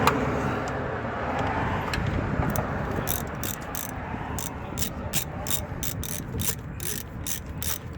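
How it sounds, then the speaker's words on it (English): A ratchet clicks in quick bursts while loosening bolts on a 2007 Silverado with a 5.3 L engine during a crank sensor job, the sharp pawl clicks close and repeated over low shop rumble. "I'm going to take the bolts out."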